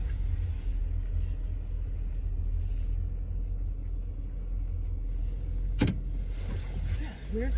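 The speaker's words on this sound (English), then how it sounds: "Weird sounding tires to the ground." Car tires roll on a damp, mucky road, making a steady low rumble and road hiss inside the vehicle, with a brief squeak near the end and no talk.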